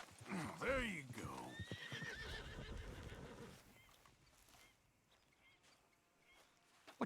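A horse in Red Dead Redemption 2 whinnies loudly near the start with hooves clopping, then the sounds fade into quieter ambient noise and soft scattered steps.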